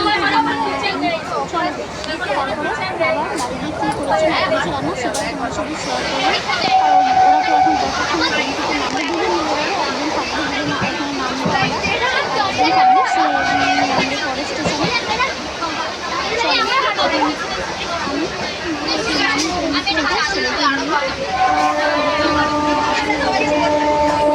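A busy railway platform during heavy rain just after passengers step off a train: continuous loud wash of rain and crowd noise, with sustained horn-like tones sounding a few times, and people talking throughout.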